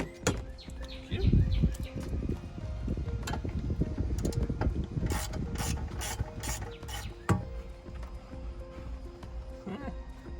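A ratchet clicks in quick bursts while loosening small 10mm bolts from a trim panel at the rear of a 2017 Nissan Pathfinder, close and moderately loud with some rubbing and handling noise between runs.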